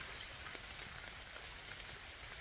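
Steady monsoon rain pours down on a rural Gujarati farm and village road, a dense, even hiss of drops hitting surfaces that runs unbroken throughout with no voices.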